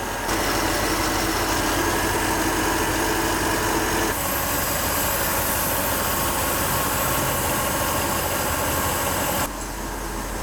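Mercedes SL550 engine idling, a loud, steady close rumble that holds evenly throughout, with a brief change in tone near the end and no speech.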